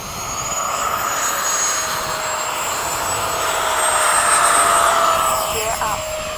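Military jets, an F-15, F-5, A-4 and F-4, roll for takeoff in formation, a steady broad jet roar holding loud throughout with whining engine tones, while voices speak over it.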